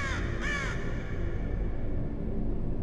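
Two loud, close crow caws in quick succession in the video game The Cursed Forest, set in a dark forest, followed by a steady low rumbling ambience with no talking.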